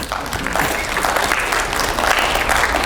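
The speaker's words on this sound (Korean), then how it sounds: "박수." Lecture audience applause during a special talk on artificial intelligence: a steady, even wash of clapping from a crowded hall, fairly close and unbroken throughout.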